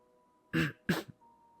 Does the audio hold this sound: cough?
yes